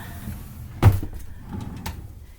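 A drawer in a home scrapbooking room gives a single sharp knock near the start, followed by faint rustling and a quiet room.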